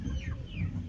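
Moulting chickens cluck softly in short rising calls over a low rumble of background noise, close by.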